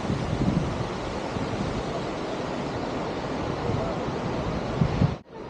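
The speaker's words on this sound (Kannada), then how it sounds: "830 ಅಡಿ ಮೇಲಿಂದ ಡೈರೆಕ್ಟಾಗಿ ಈ ಜೋಗ್ ಜಲಪಾತ ಭೂಮಿಗೆ ಬಂದು ಬೀಳುತ್ತೆ." Jog Falls on the Sharavathi river, plunging about 830 feet near Sagar in Shivamogga, roars as a steady broadband rush of falling water and wind that holds throughout, then cuts off abruptly at the end.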